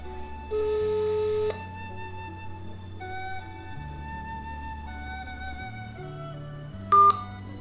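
Touch-tone telephone dialing: a run of steady DTMF key tones stepping through a number, with a brief louder tone burst near the end, heard alone without speech.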